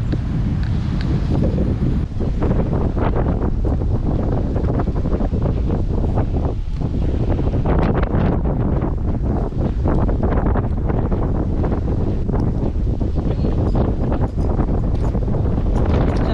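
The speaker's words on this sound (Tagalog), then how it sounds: "Lakas ng hangin." Strong wind roars and buffets the microphone continuously, a loud, steady rumbling gust with no pauses.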